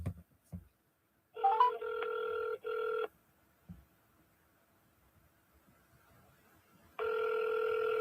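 Outgoing phone call giving two clear ringback tones, each about two seconds long, with silence between them and faint clicks at the start.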